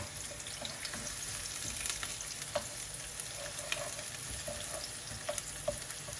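Prawns and garlic sizzle and fry in a hot wok for Pad Thai, a steady close crackle with scattered sharp pops and scrapes of stirring throughout.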